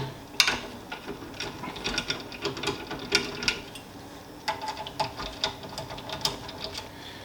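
Action screws on a 6BRA rifle are turned out with a tool during a barrel change, giving a series of small ratcheting clicks and metallic ticks, close and fairly quiet, with no talking.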